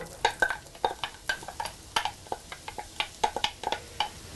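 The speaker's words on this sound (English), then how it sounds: "we'll be ready to saute onions" Diced onion going into a pan to saute for moussaka, a run of stirring scrapes and clicks with a soft sizzle underneath, close and steady with no talking.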